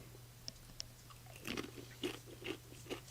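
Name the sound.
crunchy homemade snack being bitten and chewed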